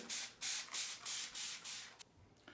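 Repeated bursts of water sprayed from a spray bottle onto a powdered model watershed city with residential areas, about six hissing pulses in an even rhythm, close and fairly loud, then a short pause and one more spray at the end.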